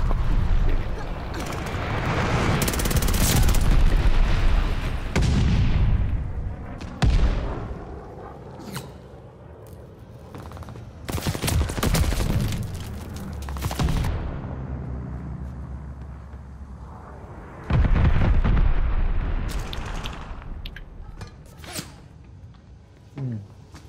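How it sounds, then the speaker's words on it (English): Enemy glide bombs hit in a Call of Duty: Vanguard match as loud, close explosive blasts, several heavy booming bursts with rumbling tails separated by quieter stretches of battlefield noise. "Got an enemy glide bomb on the way"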